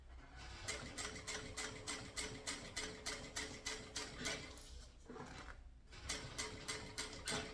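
A sewing machine stitching a mini backpack runs in quick, even bursts of clattering needle strokes, stops briefly, then starts again. The sound is soft and close, with no voices.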